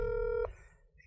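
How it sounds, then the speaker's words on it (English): Telephone dialing tone over a speakerphone turned all the way up: a steady multi-tone beep for about half a second, then a short trailing burst. It sounds close and alone, with no talk. "That's the phone ringing."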